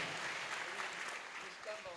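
Audience applause at a temple anniversary celebration, honouring volunteer flower decorators: a steady, fairly quiet wash of clapping from a crowd lasting throughout, with a few faint voices mixed in.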